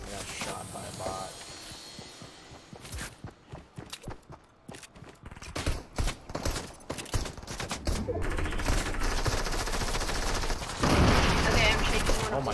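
Gunfire from computer-controlled bots in Fortnite, quick bursts of shots that crackle through busy game noise, building into a dense, louder stretch toward the end while a player talks over it.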